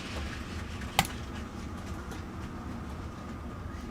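Model trains run on a layout with a continuous low rumbling roll, a single sharp click early on, and faint rhythmic clatter throughout.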